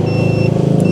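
A 2012 Hyundai Avega GX with automatic transmission hums close and loud with a steady, low, even engine drone lasting about a second.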